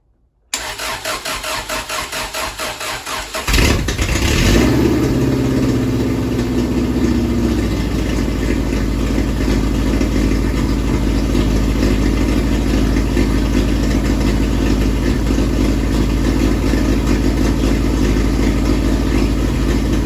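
A Subaru Legacy Outback under revival cranks for a few seconds, then catches and settles into a loud, steady, rough-sounding idle that continues without pause.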